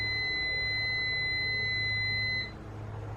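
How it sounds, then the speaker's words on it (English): An electronic timer beeps in a sustained, steady high tone for about two and a half seconds before cutting off, leaving quiet room noise behind. "that was a timer going off"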